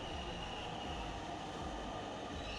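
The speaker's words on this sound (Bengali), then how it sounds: "অপেক্ষার পর চলে আসলো অবশেষে ট্রেনটা" A train pulls into a station with a steady, dense rumble of wheels and carriages, loud and continuous throughout, with no voices.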